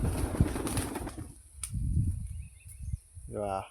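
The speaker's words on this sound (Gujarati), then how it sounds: "પક્ષી ઉડ્યા છે જુઓ તમે કબૂતરા હતા" Pigeons coo briefly near the end after a burst of rustling and flapping wings as they fly off a rain-damaged cotton field, with outdoor noise and some background voices earlier.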